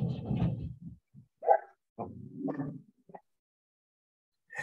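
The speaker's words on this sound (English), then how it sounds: "my dogs heard Phoebe bark and they got all excited upstairs" Dogs bark excitedly from upstairs in a house, a few muffled, somewhat distant woofs and yips in short bursts separated by silence.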